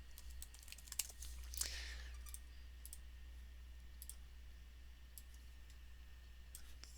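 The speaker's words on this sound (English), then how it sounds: "I'm going to type proper again" Typing on a computer keyboard during CAD and toolpath work: faint, scattered key clicks in short irregular runs over a low steady hum, with no talking.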